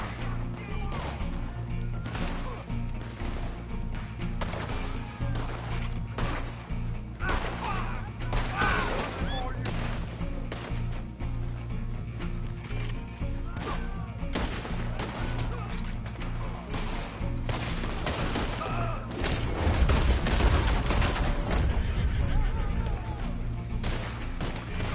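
Video game gunfire rattles in dense, loud bursts and single cracks through a constant battle din, with a heavier flurry of shots close to the end.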